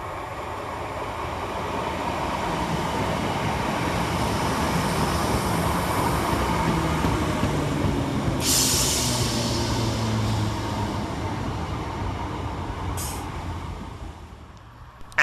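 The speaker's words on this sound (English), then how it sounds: "Next to arrive into the station is 319375, working the 1054 Northern service of Liverpool Lime Street to Crewe via Manchester" A Northern class 319 electric multiple unit pulls into St Helens Junction station, its low rumble and wheel noise swelling and then easing as it slows, with a brief hiss of air brakes partway through and near the end.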